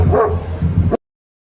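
A dog in a Mysore street gives a short run of close yips and barks with a whimpering edge, lasting about a second before cutting off abruptly to silence.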